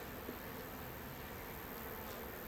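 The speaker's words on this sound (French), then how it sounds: "Ces abeilles propolisent énormément." Honeybees buzz around hives in the woods, a faint, steady, even hum that stays constant and distant throughout with no voices.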